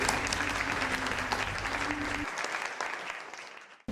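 Audience applause for the musician fills the room with dense, steady clapping that holds for about two seconds, then thins out and fades to near silence.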